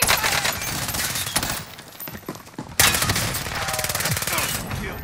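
Dense video game gunfire in an online shooter match, rapid overlapping shots and bursts filling most of the clip, loud and close, with a brief lull before the firing resumes heavily.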